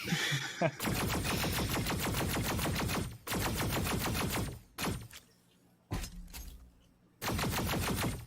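Kinessa's massive rifle in the game Paladins fires long rapid bursts of sharp, echoing shots, broken by short pauses and a few single thuds.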